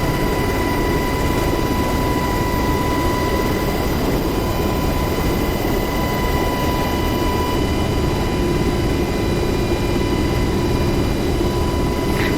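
Steady, loud roar of a UH-60 Black Hawk helicopter flying low in DCS World over the Syria map, a continuous engine and rotor drone with whining tonal lines and no pauses.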